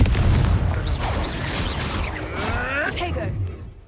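Confringo explosive spell in Hogwarts Legacy: a heavy, loud boom opens, then rumbling debris and whooshing magical sweeps trail off over several seconds, with voices speaking over it.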